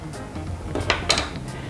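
Chopped leek dropped into a baking dish for a carbonara bake, a couple of soft rustling thuds and light clinks over a second or two, close by.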